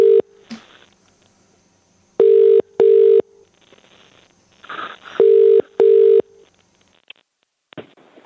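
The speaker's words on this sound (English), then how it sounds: "We'll dial her up now." A telephone rings after a number is dialled, giving two pairs of loud, steady electronic ring tones separated by a pause, with faint background noise and a few small clicks.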